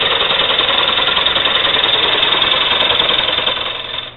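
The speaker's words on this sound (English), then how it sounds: "You just get the tool up there, get the bevel on, and start turning." A woodturning lathe spins a wooden platter while a gouge shapes it, giving a steady, loud, continuous rasping hum that holds level throughout and only fades slightly at the very end, with no talking.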